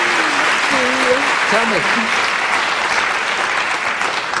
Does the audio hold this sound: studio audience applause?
yes